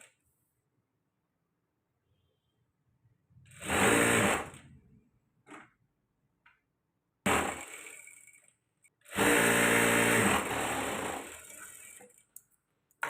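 A sewing machine stitches blouse pieces in short bursts, a close mechanical whirring run of about a second, then a brief tap, and two longer runs later, separated by near silence.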